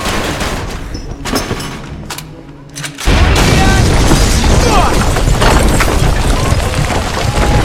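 After shouting and scattered shots, a grenade thrown through a window bursts with a sudden heavy boom, followed by a continuous loud roar of gunfire and blast noise that fills the rest of the scene.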